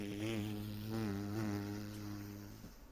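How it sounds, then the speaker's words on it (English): A dragonfly hovering near a flower in a fantasy tabletop game scene gives a steady, fairly faint droning buzz that holds for a few seconds and then fades slightly. "you hear a buzzing"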